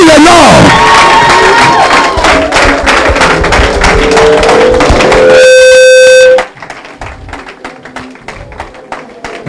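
A church congregation cheers and acclaims loudly, a dense roar of shouts and claps with a sustained horn-like tone before it drops off, leaving quieter crowd noise.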